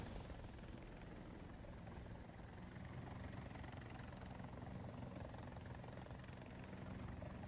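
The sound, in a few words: aircraft flying overhead in the video game War Thunder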